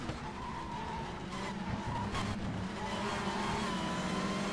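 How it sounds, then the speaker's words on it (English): Tyres skid and squeal under locked brakes on a 1992 British Touring Car at Brands Hatch Indy in RACE 07, a loud continuous scrub over steady engine roar running the whole stretch. "locking up the brakes, going a bit wide"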